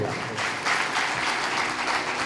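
A church sermon congregation claps loudly together in a dense, steady burst of applause that fills the room.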